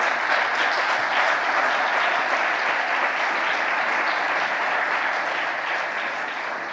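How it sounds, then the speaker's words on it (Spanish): Sustained applause from a conference audience in Toledo, a dense even wash of clapping that holds steady for several seconds before easing slightly at the end, with no talking over it. "un aplauso para ellos porque lo han hecho fenomenal"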